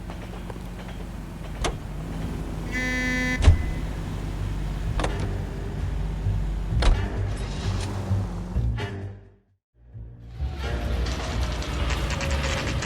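A car is driven in L.A. Noire, its engine a steady low hum beneath scattered clicks, a mechanical whir and door-like thuds, with a brief drop to near silence before the engine resumes.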